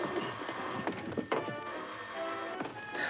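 A 1936-era telephone bell rings in bursts, bright and close, with clattering knocks between the rings and no one talking.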